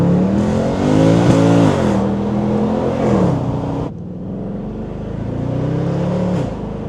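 A Mercedes C63 507 Edition V8 revs and accelerates hard up close, its pitch climbing through several gears with brief drops at each shift, loud and continuous with no talking.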